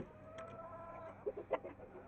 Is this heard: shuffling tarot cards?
no